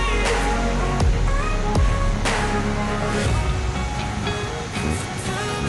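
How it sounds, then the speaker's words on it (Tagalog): Morning ocean waves crash and wash ashore in repeated bursts, a continuous roaring surf close by with several distinct breaks rising above the wash. "ganda pakinggan ang hampas ng alon sa umagang kay ganda"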